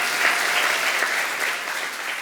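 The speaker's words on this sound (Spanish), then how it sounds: "Vamos, aplaude fuerte." A church congregation applauds loudly and steadily during a worship service, a dense wash of many hands clapping that holds for a couple of seconds without letting up.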